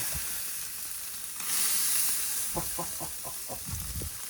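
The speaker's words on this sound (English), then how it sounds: "Always with the sizzle." Steady broadband sizzling of burger patties frying on a Weber kettle grill, swelling louder midway, with a few soft clicks and taps toward the end.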